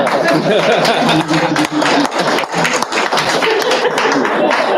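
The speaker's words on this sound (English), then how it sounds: "Applaud." Attendees at a regular school board meeting clap together in a dense, steady burst that continues throughout, with some voices and light laughter mixed in.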